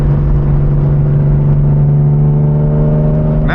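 A turbocharged BMW E36 engine runs at half throttle, a loud, steady close-up drone with a strong low hum held evenly throughout, no voices over it.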